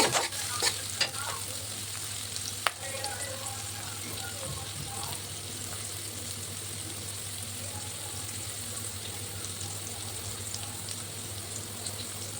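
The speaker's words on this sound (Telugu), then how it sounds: "మనం ముందుగానే కట్ చేసి పెట్టుకున్న ఆనియన్స్ అండ్ మిర్చి ఇంత కరివేపాకు కూడా వేసేసుకోవాలన్నమాట వేసేసుకొని బాగా మిక్స్ చేసుకోవాలి" Onions, green chillies and curry leaves frying in a pan for a spinach fry, sizzling steadily while a spoon stirs and scrapes, with a few louder clinks near the start.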